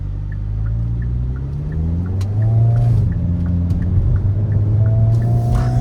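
Hyundai Kona N engine in sport mode while driving, a steady loud drone with rising and falling pitch bands as the revs climb, continuous throughout with no talk.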